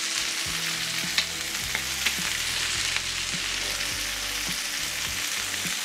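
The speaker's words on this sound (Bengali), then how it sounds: "এরপরে মরিচ সহ এটারে ভাজা হবে" Onions and shrimp fry in hot oil with a dense, even sizzle up close, joined by a few small clicks of stirring and a low steady hum underneath.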